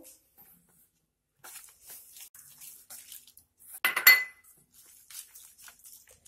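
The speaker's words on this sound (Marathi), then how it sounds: "आवश्यकतेनुसार थोडं थोडं पाणी घालून हे छान सैलसर भिजवून घेऊ" Oats batter for dhirde is mixed in a bowl as water is added bit by bit, giving soft intermittent scraping and clinking, with a brief louder clink and splash midway.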